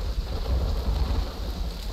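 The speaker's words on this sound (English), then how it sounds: "That's lightning" Steady rain with a low rumble of thunder in a video game map, a dense continuous wash of noise filling the scene without any voice over it.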